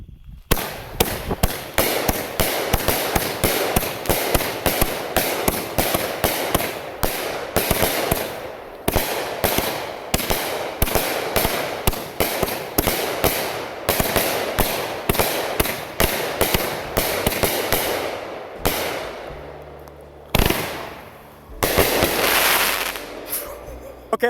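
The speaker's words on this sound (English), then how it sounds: "here goes the Roaring Bot 500-gram cake" A Roaring Bot 500-gram fireworks cake firing New Year's-style, a loud rapid barrage of cracking bursts and crackles running continuously for about twenty seconds, with a brief pause before a final burst of fizzing crackle.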